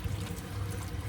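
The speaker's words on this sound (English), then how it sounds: "add a touch more water." Water poured into a simmering Salli Boti curry, a steady low gurgling pour that runs continuously and fairly loud, with no voices.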